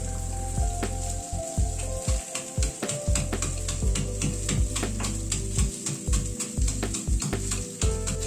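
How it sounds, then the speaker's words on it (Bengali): A pestle pounds dried lentil dumplings (bori) in a mortar with a steady run of quick, close knocks, while a pan of okra and potato sizzles in the background. "বড়িটাকে কিন্তু একদম গুঁড়ো করে নেব।"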